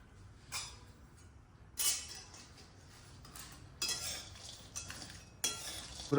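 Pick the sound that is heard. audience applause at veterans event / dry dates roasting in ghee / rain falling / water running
dry dates roasting in ghee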